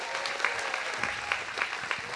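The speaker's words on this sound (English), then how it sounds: "Can we give a huge round of applause for the scholarship committee who has made this possible?" An audience at a community scholarship awards night claps steadily, a dense, moderately loud wash of many hands that holds for the whole stretch without cheering.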